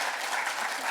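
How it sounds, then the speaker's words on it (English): An audience at a zoo talk applauds in a brief, steady burst of clapping from a crowd. "Round of applause for Amanda."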